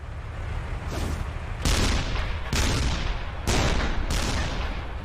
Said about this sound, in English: The South Vietnamese open fire with deadly accuracy.